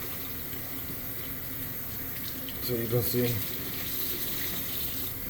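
A soapy rag rinsed under a running faucet, with a steady stream of tap water hissing into a sink and a brief louder splash midway as the cloth is worked through it, someone talking briefly over it.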